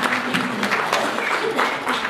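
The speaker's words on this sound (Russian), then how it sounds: "Давайте похлопаем." A live audience bursts into steady applause, dense clapping filling the room at close range for about two seconds without a break and with no voices on top.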